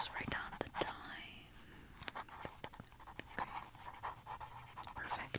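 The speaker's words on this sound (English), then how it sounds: "Let me just write down the time." Pen scratching as the time is written down at a hair salon, with close, soft, irregular strokes and taps under faint whispering.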